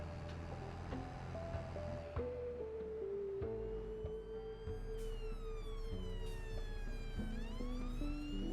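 A police car siren in the Farming Simulator 22 game sweeps up and down in wailing rises, over a steady background of low droning tones and layered in-game sound.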